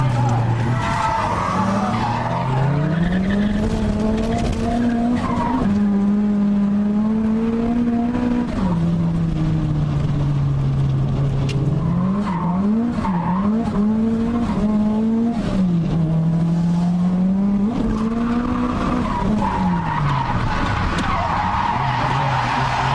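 Nissan Silvia from the Raikkonen team drifting in a D1 demo run at a drift event, engine wailing and rising and falling through the slides while tires squeal loudly and continuously for the whole stretch.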